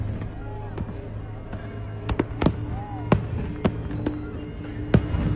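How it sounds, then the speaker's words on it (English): New Year's fireworks burst as scattered sharp bangs and pops, some near and some farther off, over a steady background murmur of a crowd and voices. "even watching the fireworks."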